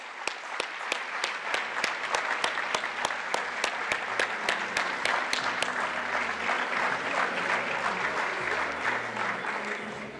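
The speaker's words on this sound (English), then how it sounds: "Let's give her a big round of applause." Audience applause at a West Africa regional summit, a dense sustained clapping from a large crowd that runs steadily for about ten seconds with no voices over it.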